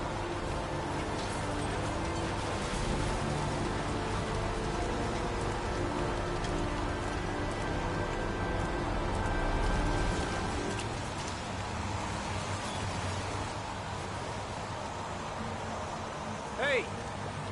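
Steady, dense rainfall from a PS4 game fills the scene, a constant hiss of drops on surfaces that softens slightly toward the end.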